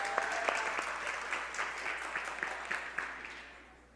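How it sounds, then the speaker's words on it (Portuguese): A church congregation claps for a woman named Valéria, a brisk patter of many hands at moderate volume that thins and fades away toward the end. "Uma salva de palmas para a Valéria."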